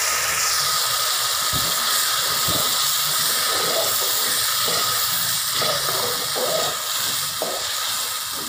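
Tomato paste hitting hot oil in a pan, a loud continuous sizzling hiss with scattered stirring scrapes and soft knocks underneath.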